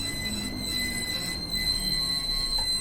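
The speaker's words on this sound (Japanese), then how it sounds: "電車が来ました" A train pulls into a station in Japan, its wheels giving a steady, loud, high-pitched metallic squeal over the low rumble of the cars, continuous and close, with no voices.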